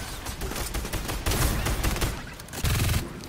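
Rapid bursts of gunfire in the video game Fortnite during a squads match, repeated volleys coming loud and close with dense crackling shots throughout.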